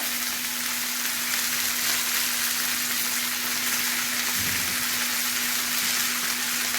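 A spice mix of salt and chili powder sizzles on low heat in a pan, a steady soft crackling hiss that runs continuously, close and alone.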